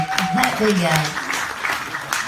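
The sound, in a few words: audience applause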